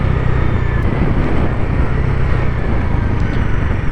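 Bajaj NS400 motorcycle engine just after a downshift, a steady close, loud droning rumble with wind and road noise mixed in, no talk.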